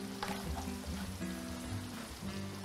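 Onions go into a pan of cooking garlic and fry with a steady, dense sizzle that stays loud and even throughout, with no talking over it.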